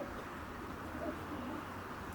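Racing pigeons cooing softly in a straw-littered pigeon loft, a few low murmuring coos over a quiet, steady indoor background.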